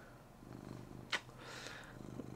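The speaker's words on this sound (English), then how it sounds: "This is Bink. He is my girlfriend and I's cat." A pet cat purring up close, a soft low rhythmic rumble with a brief sharp sound in the middle.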